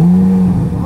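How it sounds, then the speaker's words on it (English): A Corvette Z06 engine fires up loudly and close, its deep steady idle holding strong before the note shifts and rises slightly at the end, with no talking over it. "So starting up the Z"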